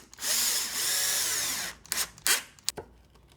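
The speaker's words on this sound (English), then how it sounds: "Drive in my second screw." A power drill drives a screw into a wooden floating shelf: a long whirring run with rising pitch, then several short bursts as the screw seats, close and loud.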